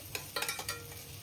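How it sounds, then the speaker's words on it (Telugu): Ginger garlic paste fries with onions in a pan for gongura chicken pulao, with a faint steady sizzle and a few quick stirring clicks. "అల్లం వెల్లుల్లి పేస్ట్ పచ్చివాసన పోయినంత వరకు ఫ్రై అవనివ్వాలి"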